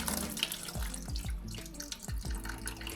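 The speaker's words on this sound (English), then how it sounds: "I'm washing these media bags with tank water" Aquarium filter media bags being washed in tank water, with splashing, sloshing and dripping water in a container, close and continuous, no talking.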